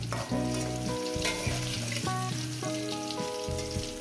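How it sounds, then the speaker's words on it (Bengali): Pointed gourd and potato pieces fry in a pan, a close, steady sizzle heard together with a melodic music track. "এখন আমি পাঁচ ছ মিনিট ভাজবো"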